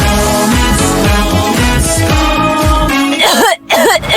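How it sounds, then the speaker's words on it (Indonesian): A wet, phlegmy cough bursts out loud and close over music in a cold-medicine advertisement, several heavy hacking coughs in a row. "Batuk berdahak, pilek."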